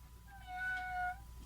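A cat gives a single drawn-out meow, clear and fairly close, over a low steady background hum with no talking.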